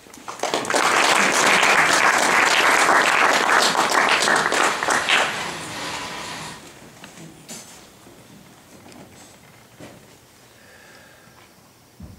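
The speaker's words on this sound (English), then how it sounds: "So let's give them applause." Loud, dense applause from a crowd for about six seconds, then fading to scattered claps and quiet room noise.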